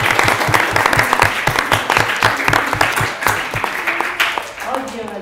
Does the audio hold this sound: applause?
yes